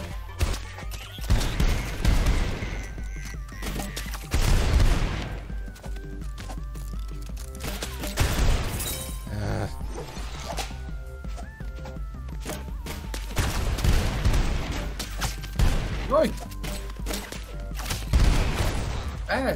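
Explosive bullets fire in the game ROUNDS, a rapid chaotic barrage of shots and bursts in repeated loud clusters with thuds between them, spread across a long, busy stretch.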